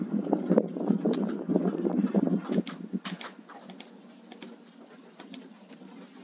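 Quick keystrokes on a computer keyboard while entering a command in AutoCAD, a close, light clatter that is dense at first, then thins to scattered taps.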